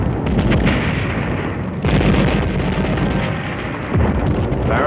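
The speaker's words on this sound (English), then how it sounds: "Barrels and drums of gasoline and motor oil were detonated by the Japs inside buildings from one end of Manila to the other." Drums and barrels of gasoline and motor oil detonating inside buildings across Manila in 1945, heard as heavy, booming blasts in quick succession, with a sharp new burst near two seconds and another near four, all loud and close.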